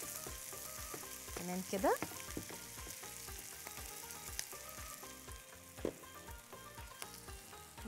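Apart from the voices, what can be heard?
onions caramelizing with sugar in a frying pan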